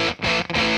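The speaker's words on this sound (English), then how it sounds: "That's pretty good for a fuzz pedal." Guitar through a Caline CP-32 Clear Veil overdrive/fuzz pedal, a thick, saturated fuzz tone sustaining loudly with brief dips between picked notes, playing single-note chordish phrases with no talking.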